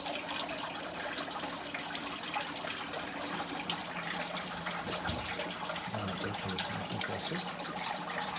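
Water pours steadily from the air conditioner compressor in a bus engine compartment, a continuous hissing splash with no pauses and a faint low thump partway through.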